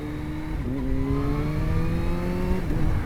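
Kawasaki Z H2 supercharged motorcycle accelerating on a road by a roundabout, its engine note rising steadily and dropping briefly at a gear change, a loud, continuous drone heard from the rider's position.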